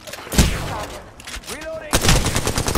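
Automatic weapon bursts fired in Apex Legends, sharp rapid shots in two clusters with a quieter gap between, loud and close over someone speaking.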